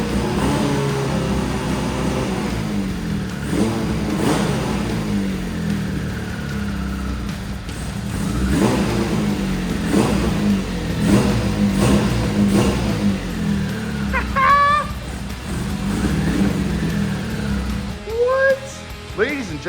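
An abandoned Suzuki Bandit motorcycle engine cranks and catches, then revs up and down in uneven bursts that run throughout, with people talking over it.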